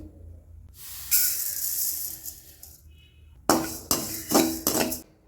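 Cumin and fennel seeds dry-roast in a pan, giving a soft hiss and then a run of sharp metallic scrapes and rattling clinks in four or five quick bursts.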